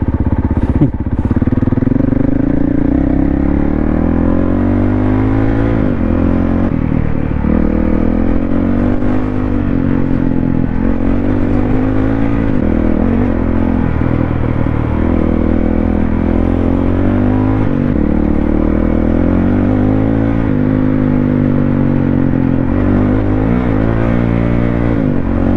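Honda CRF450L or CRF300L dual-sport motorcycle ridden over gravel and sand trails, its engine loud and steady throughout with shifting revs and a rattling crunch of stones under the tyres.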